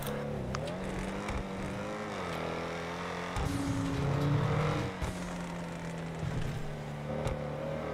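A car driven in Grand Theft Auto, its engine droning steadily with pitch rising and falling as it speeds up and slows, loudest in the middle, with no talk over it.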